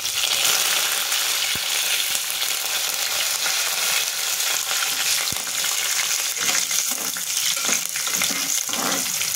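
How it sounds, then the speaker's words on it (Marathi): Green chilies and curry leaves fry in hot oil with peanuts in the pan, giving a loud, steady crackling sizzle that runs unbroken with no voices. "आता त्याच्यामध्ये मी मिरची टाकून घेते, कढीपत्ता,"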